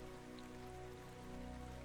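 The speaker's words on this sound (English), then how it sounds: "The rain hitting your back." Steady rain falls in a dense, even patter with a constant hum underneath, unchanging over a couple of seconds and with no voices.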